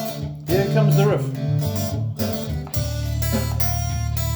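A loud rock riff plays over a full backing track, with steady sustained low bass notes and a strong beat throughout.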